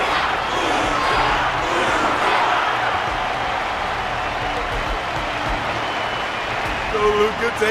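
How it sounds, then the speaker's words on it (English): A crowd applauding and cheering for a fighter after a bout, a sustained loud wash of clapping and shouts that continues steadily without a break. "Their constant applause is a salute to this resilient Belabogian fighter."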